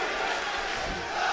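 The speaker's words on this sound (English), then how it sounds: "Listen to that crowd." A loud, continuous crowd roar rises from the arena at an MMA fight, a dense, noisy wall of cheering voices with no clear breaks.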